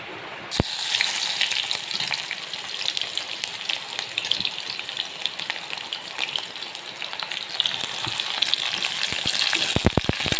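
Onions sizzle and crackle in hot oil, a dense hiss with sharp pops, growing a bit louder toward the end.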